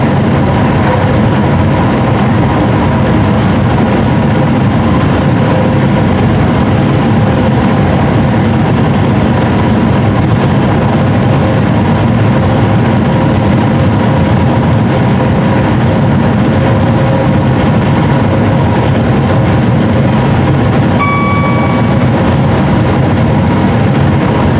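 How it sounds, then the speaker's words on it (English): Loud, steady roar of a train running at up to 100 mph, heard from the driver's cab on the Potteries Line between Stafford and Crewe, a constant rumble with faint tonal whines and no voices. "This is the fastest section of our line for our train, the maximum speed of 100 miles an hour being obtained here."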